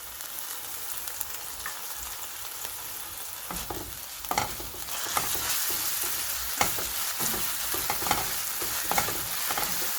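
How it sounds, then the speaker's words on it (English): Ginger garlic paste and browning onions frying in a pan for kofta curry, a dense hiss of sizzling with spatula scrapes that grow busier and louder partway through, close by with no talking. "I like to fry my ginger garlic paste with onion."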